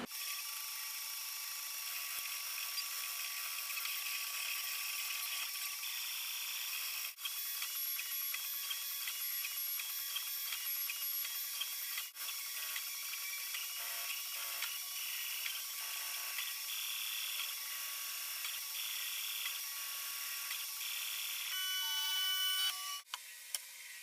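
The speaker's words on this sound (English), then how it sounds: "let me just cut to a quick segment that shows you a time lapse of this being printed" A 3D printer builds a quadcopter part in time lapse, producing a continuous high-pitched stepper-motor whine with rapid clicks and shifting tones for over twenty seconds, close and steady.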